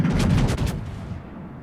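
A German Tier 7 Scharnhorst battleship in World of Warships fires a main-gun salvo: a loud, close, heavy boom that rolls off into a fading low rumble.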